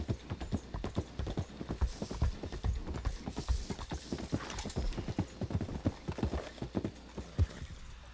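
A Belgian draft horse's hooves clip-clop in a steady, repeated walking rhythm across Red Dead Redemption 2 Online's bayou terrain, heavy and close for about eight seconds, with faint ambient game sound behind and no talk.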